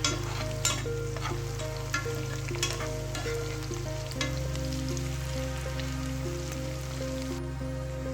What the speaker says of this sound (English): Saute the onions till it becomes transparent or translucent.